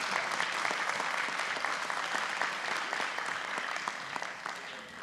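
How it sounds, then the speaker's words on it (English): An audience at a school board meeting gives students a big round of applause, continuous dense clapping that holds steady and tapers slightly at the end. "let's give another big round of applause for these students"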